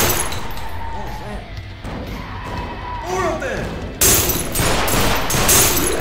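Gunfire in UnderHell, a Half-Life 2 mod: loud, dense bursts of shots and impacts that grow harsher and more continuous toward the end, mixed with excited voices talking.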